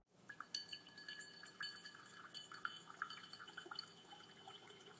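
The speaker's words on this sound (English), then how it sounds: "The AI automatically creates realistic water splashes." AI-generated water splashes and drips with light glassy clinks, faint and close, forming a steady scatter of small wet impacts over a few seconds.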